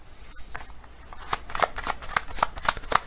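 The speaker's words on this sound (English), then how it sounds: "Actually, I'm going to get another card from this deck." A deck of tarot cards being shuffled, a quick run of riffling flicks building to louder snaps over a few seconds, close and clear with no talking.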